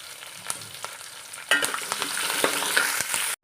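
Finely chopped green chilli, ginger and garlic fry in a pan for bitter gourd pickle. Intermittent spatula scrapes come first, then a louder, dense sizzle swells midway and holds, with stirring clicks throughout.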